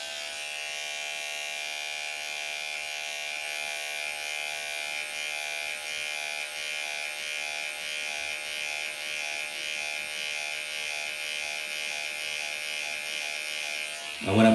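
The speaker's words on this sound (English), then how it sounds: "we use the trimmers for this part right here with the trimmers" An electric beard trimmer without a guard, lever open, runs in a steady high buzz close by while cutting beard hair during a fade, ending with a sudden thump.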